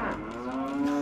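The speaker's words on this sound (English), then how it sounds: "Just shoving a cow into an atomic bomb." A single drawn-out cow moo from the video game Fallout 3, close and loud, rising slightly in pitch toward the end.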